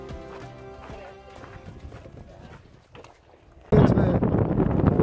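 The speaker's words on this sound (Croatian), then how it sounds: "Konj je i dalje tu." A horse along a road in Kyrgyzstan makes faint clip-clop and snorting sounds. Then a sudden burst of wind noise on the microphone swamps the last seconds.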